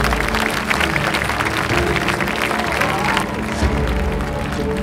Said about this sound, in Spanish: aplausos para Mujde Turkan